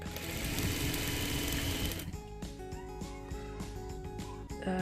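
A sewing machine stitches a fabric face mask up close, first in a dense fast run of needle strokes, then in quicker separate mechanical clicks and whirs for the last few seconds.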